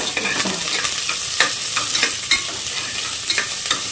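Two medium onions frying in a pan for chilli chicken gravy, a steady broadband sizzle with repeated scraping stir strokes throughout, close and fairly loud with no talk.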